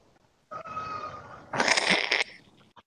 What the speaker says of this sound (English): This cat's driving me nuts.